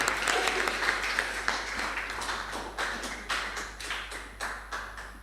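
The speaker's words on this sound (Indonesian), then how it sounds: "Kita kasih aplaus yang sangat meriah." An audience at a teen preaching contest applauds a young contestant. The clapping is a dense crowd patter that starts strong and carries on, with a few sharper claps near the end.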